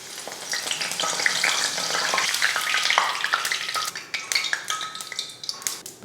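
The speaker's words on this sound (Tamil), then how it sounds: "எண்ணெய் நல்லா காஞ்சிருச்சு. இப்போ பொரிச்சு எடுத்துக்கலாம்." Cauliflower pieces fry in hot oil with a loud, dense crackling sizzle up close, steady at first and then breaking into sharper scattered pops, with no one speaking.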